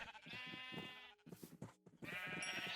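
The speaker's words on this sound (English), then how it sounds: "let's see if we can make a baby sheep" Baby sheep in the Minecraft video game bleating in several bursts, with wavering, harmonic cries and short pauses between calls, loud and close.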